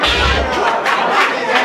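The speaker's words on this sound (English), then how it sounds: "give them all round of applause" A crowd at a ballroom performance event roars and cheers loudly, a dense, sustained wave of shouting voices.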